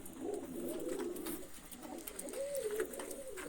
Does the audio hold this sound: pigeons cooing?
yes